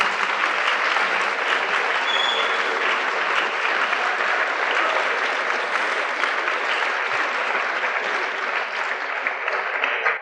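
Sustained applause from a lecture audience at an author talk, a dense steady wash of clapping that holds at full strength for about ten seconds with no voices over it.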